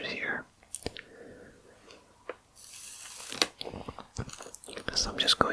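Small scissors cut along the edge of a chalkboard in a quiet room, giving close, crisp snipping and crunching clicks in irregular bursts, with faint whispering in between.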